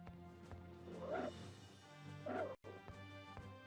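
Dog whimpering in the video game Elder Scrolls Adventures: Redguard, two short whiny yelps about a second apart over a steady game music bed, fairly quiet.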